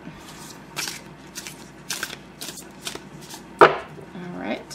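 Tarot cards riffled in an overhand shuffle, giving several soft papery bursts spaced through the clip, then a sharper, louder card snap near the end, heard close up with no talking.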